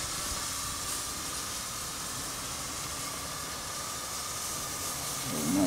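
Steam hisses steadily from a small leak at the threaded fitting of a steam boiler's whistle, a constant, fairly loud broadband rush with no speech over it.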